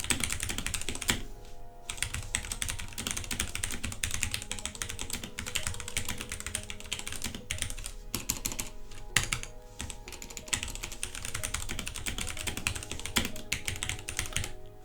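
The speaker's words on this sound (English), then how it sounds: "let's do a typing sound test right now, so you can hear how it types." Rapid, continuous clacking of typing on an RGB mechanical gaming keyboard with Cherry MX switches. The keystrokes are close, dense and irregular, with brief pauses, and there is no talking.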